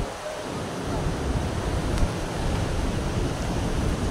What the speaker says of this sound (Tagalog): Bigla kaming sinugod ng alon.